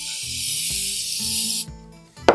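A continuous aerosol hiss of cooking spray into a small loaf pan lasting over a second, close and loud, followed by a short clatter of the pan being handled.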